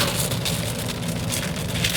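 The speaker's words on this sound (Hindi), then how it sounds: "और ठीक ठाक बारिश हो रही है।" Steady rain pattering hard on a car during a drive on the Delhi–Mumbai Expressway, a dense continuous hiss with low rumble underneath, close and fairly loud throughout.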